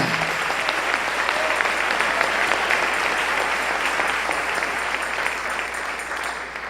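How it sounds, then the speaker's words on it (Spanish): A church congregation applauds during a Spanish-language Sunday-morning sermon, a dense, steady wash of clapping that holds throughout and tapers slightly near the end, with no talk over it. "Dale un aplauso al Rey en esta mañana."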